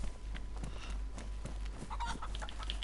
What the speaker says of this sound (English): Here, chicken. I hear you.